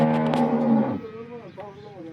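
A dairy cow in a farm sale lineup gives one loud, close moo lasting about a second, followed by someone talking.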